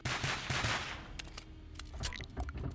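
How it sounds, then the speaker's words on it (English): Rapid gunfire in the online game Garry's Mod SCP roleplay, a burst of fast repeated shots up front followed by scattered sharper cracks and game noise, moderately loud and close. "It's not me shooting."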